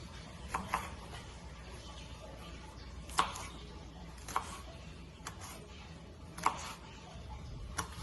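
A knife cuts through an onion on a board while Haitian chicken is being prepared, giving sparse, faint taps spaced a second or more apart over quiet background noise.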